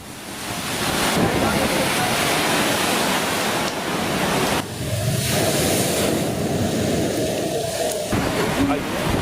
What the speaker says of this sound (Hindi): ये तूफान की तस्वीरें हैं जो तट से टकराने वाला है।